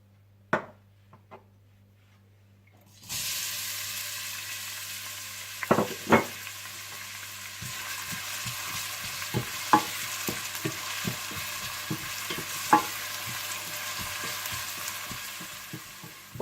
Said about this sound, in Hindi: तो सबसे पहले आप ऑयल गर्म कर लीजिए और इसमें प्याज डालकर हल्के से ब्राउन कर लीजिए।